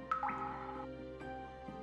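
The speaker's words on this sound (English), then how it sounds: "This happens every time a raindrop hits a puddle." A single raindrop lands in a puddle with a bright plink, followed by a quieter second drip a moment later in a calm setting.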